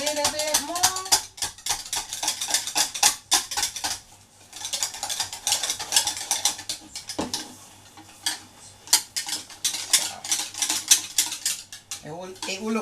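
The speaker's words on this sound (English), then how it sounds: "So just whisk it up a little bit more." A whisk stirs a homemade body scrub mixture in a bowl, giving rapid clinking and scraping against the container in steady bursts. It is fairly close and continuous, with brief pauses.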